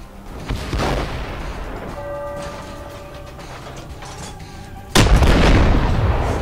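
Self-propelled artillery in the video game Armored Warfare: a whirring, ratcheting reload mechanism runs for a few seconds, then a single loud cannon shot booms and rumbles away.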